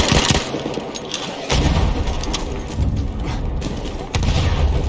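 Rapid machine gun bursts and booming gunfire in a World War I multiplayer conquest battle in Battlefield 1, loud and dense throughout, with heavy explosive thumps near the start and again toward the end.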